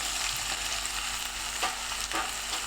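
Browned onions sizzling in hot oil in a pan as red chili powder goes in, a steady dense frying hiss with a couple of soft stirring scrapes, close and alone with no voices.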